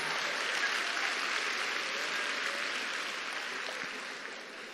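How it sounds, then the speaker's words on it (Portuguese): An audience in a church hall applauds steadily, a broad, sustained wash of clapping that fades slightly toward the end. "Pode aplaudir, eles são lindos."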